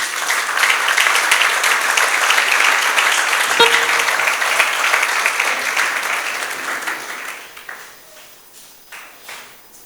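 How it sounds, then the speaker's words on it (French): A church congregation applauding together, a loud dense wash of clapping that holds steady before thinning out into a few scattered claps and fading, with a single faint ping partway through. "Est-ce qu'on peut encore acclamer le Seigneur, s'il vous plaît?"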